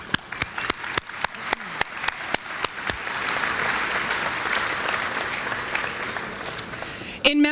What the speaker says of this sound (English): has earned the whole Chamber staff team and all of our volunteers a huge round of applause